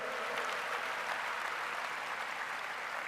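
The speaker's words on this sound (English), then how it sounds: "they deserve a round of applause" Audience applause at the US Open's new Louis Armstrong Stadium dedication in 2018, a steady wash of clapping from a crowd, moderately faint and sustained throughout.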